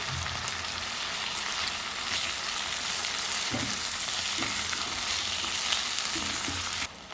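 Vegetables fry in a pan with ginger garlic paste, giving a continuous close, loud sizzle with soft knocks of stirring throughout. Near the end the hiss suddenly drops in level.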